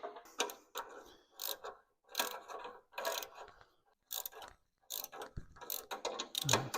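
A ratchet wrench clicks in short, repeated bursts while tightening the bolts on the exhaust flanges of a Nissan Altima, the quick metallic ratcheting close and distinct, separated by brief pauses.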